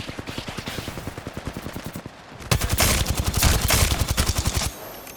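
Rapid automatic gunfire rattles in steady bursts as bots are shot during a video game aim warm-up, with a short pause before a louder, denser stretch of shots.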